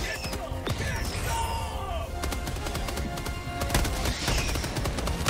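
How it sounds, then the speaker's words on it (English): Machine gun fire in Helldivers 2 comes as dense, rapid bursts of close shots, mixed with explosions and battle clatter, continuing loudly throughout. "may as well do the machine gun, huh?"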